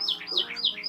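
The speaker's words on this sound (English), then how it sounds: "He's got a bird in a cage behind him." A caged bird chirps close by in a room, a quick repeating series of high, bright tweets, clear and fairly soft.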